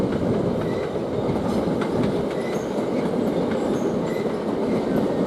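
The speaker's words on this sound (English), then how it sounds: "Now we've got another train coming in, Southeastern, from Priory to St Pancras" A Southeastern train runs into Ashford International station, a loud, steady rolling roar with rhythmic wheel clatter on the rails and faint squeals, continuous and close by throughout.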